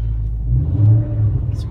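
A Mustang engine idles with a low, steady rumble and swells briefly in a gentle rev while the car maneuvers slowly into a parking spot.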